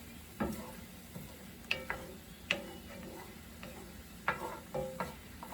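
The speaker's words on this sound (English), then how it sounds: "I'm going to push this to the back of the skillet." Beef stir-fry is scraped to the back of a sizzling skillet, with soft steady frying beneath sharp, intermittent clacks of the utensil against the pan.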